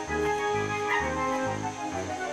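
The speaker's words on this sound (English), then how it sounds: "So I hear Wiggles and Waggles barking" Two dogs in a cartoon-like scene give a short run of about four rhythmic barks or yips over a low sustained tonal backdrop, fairly quiet and brief.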